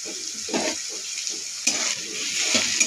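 Soybean chunks fry in hot oil in a pan with salt and turmeric, giving a steady close hiss with a few louder stirring bursts.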